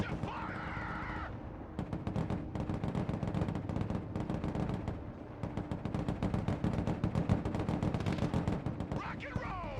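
Gunfire in the video game Broken Arrow: dense rapid bursts of automatic weapon fire, loud and nearly continuous, with heavier booms mixed in and a brief voice at the start.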